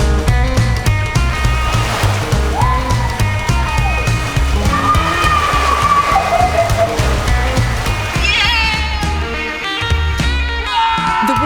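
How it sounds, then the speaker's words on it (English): Fast water rushes loudly and continuously down a water slide as a rider is carried along, heard close up with steady, roaring turbulence and some higher tones on top. "The water is going really fast and taking me with it."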